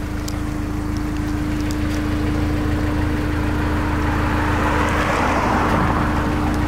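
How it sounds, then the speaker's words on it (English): A warm Honda S2000 engine idles steadily, a constant close mechanical hum with a low tonal drone holding for the whole stretch, without talk. "I want you to listen to the engine now and see what I'm talking about."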